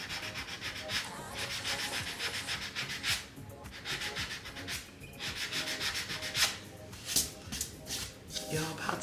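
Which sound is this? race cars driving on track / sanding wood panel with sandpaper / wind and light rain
sanding wood panel with sandpaper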